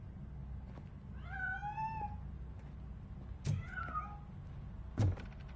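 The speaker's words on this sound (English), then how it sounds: "That cat must be hiding inside." A cat meows in the video game Robocop Rogue City, three drawn-out, wavering meows spaced a couple of seconds apart, with soft thumps and knocks under the last two, fairly quiet and with no talk.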